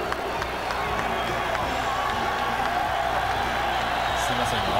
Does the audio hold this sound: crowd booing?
yes